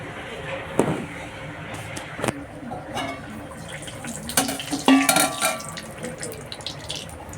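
Puris made from rolled dough are slipped into hot oil and fry with a watery sizzle, broken by sharp clatters of utensils against the pan, close by.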